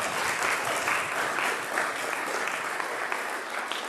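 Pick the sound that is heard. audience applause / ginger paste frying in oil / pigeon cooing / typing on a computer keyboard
audience applause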